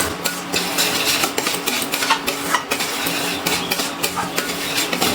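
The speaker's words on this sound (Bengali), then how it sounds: "আবার একটু নাড়াচাড়া করে নিচ্ছি।" A spoon scraping and clinking in a pan while paneer korma with tomato, sour yogurt and a little sugar is stirred, with steady close metallic scrapes and knocks over a continuous background hiss.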